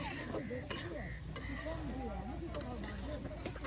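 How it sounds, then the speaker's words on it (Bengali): Meat being tossed and stirred with spices in a pot over a fire at an Eid cooking session, with soft scraping and clinks under continuous talk. "মাংসটা এখন মশলার সাথে একদম উলট পালট করে নিচ্ছে"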